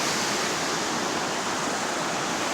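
Steady rushing flow of a silty, muddy creek swollen with runoff along the Pacific Crest Trail near White Pass, a dense unbroken wash of water noise close by with no voices.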